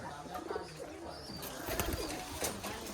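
Giribaz pigeons puffed up against the winter cold coo softly at close range, the low rolling calls repeating over a faint background hiss.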